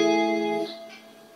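An electric guitar on the clean channel of a pedal board plays a short, bright chord that rings briefly and fades into a faint effects tail.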